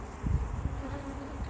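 Honeybee worker bees buzz across brood frames of an open hive, a steady close, low drone with no talk over it.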